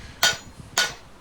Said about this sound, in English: We're really drawing it out with those hammer blows, and in all directions, 360 degrees.